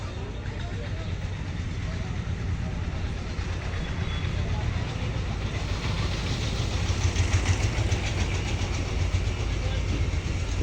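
A large American EMD diesel locomotive rumbles steadily and close by as it arrives at Alamdanga station hauling the Kapotaksha Express, with a deep, continuous low drone and a broad mechanical roar that swells slightly toward the end.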